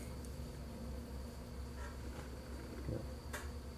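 June bugs crawling and buzzing around a box, a faint steady insect drone with a thin high whine and a few soft scratchy bursts, quiet and close, with no talk.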